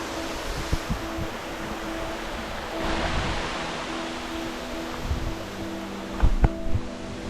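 Sea waves wash onto a shore in a soft, continuous rush, with a swell building midway and a couple of brief knocks near the end, heard at a low level without talk.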